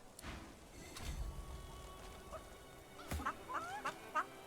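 Chickens in the video game Divinity Original Sin II, a few quiet clucks and short squawks scattered over a faint ambient bed, sparser at first and clustering toward the end.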